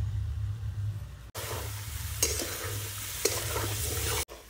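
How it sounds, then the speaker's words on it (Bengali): Mango pieces for chutney frying in a pan while being stirred, a loud continuous sizzle with a few sharp scraping strokes, broken by two brief cuts to near silence. "কিছুক্ষণ আমটা ভালো করে কষিয়ে নিয়েছি"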